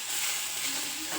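Masala frying in a pan for ghee rice, a steady close hiss of sizzling oil with faint stirring underneath, brief and unbroken, no voices.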